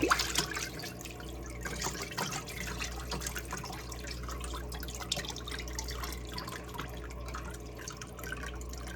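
Water drips and trickles steadily as juices drain from cooked collard greens in a pot into a sink, with a low hum underneath throughout.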